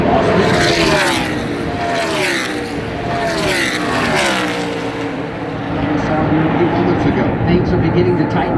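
NASCAR Cup Series race cars roar past during morning practice on a 2-mile track, engines sweeping with pitch shifts as they pass, running continuously under a steady commentator voice.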